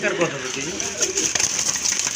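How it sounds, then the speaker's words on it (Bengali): Nervous pigeons being sold at a bird market make a few soft cooing calls close by, mixed with background noise and chatter. "ডাকার চেষ্টা করতেছে বাট একটু ভয় পাচ্ছে নার্ভাস আছে কবুতরগুলো"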